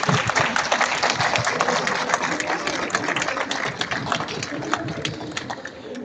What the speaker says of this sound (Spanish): Recibámoslos con un fuerte aplauso y bienvenidos.